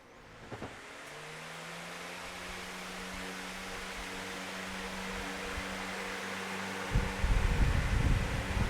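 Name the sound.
VEVOR 16-inch oscillating pedestal fan running on speed 1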